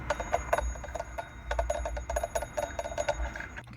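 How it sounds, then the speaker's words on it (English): A small bell alarm clock rings in rapid rattling bursts, fairly faint, with a brief pause midway before ringing resumes. "I think I'm gonna trip the alarm."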